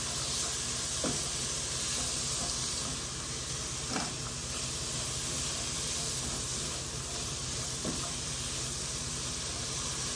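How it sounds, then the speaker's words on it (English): Bacon rendering down in a pan while cabbage, chicken and carrots are being cooked gives a steady, close hiss and sizzle throughout, with a few soft clicks from the pan and no talking. "And you're just going to render this bacon down."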